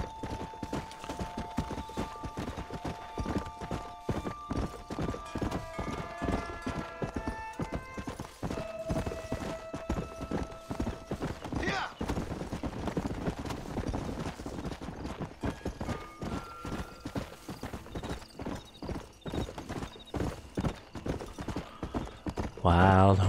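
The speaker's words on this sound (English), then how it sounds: "Wild horses." Rapid hoofbeats drum continuously as wild horses gallop in Red Dead Redemption, with a whinny near the end and game music tones layered underneath.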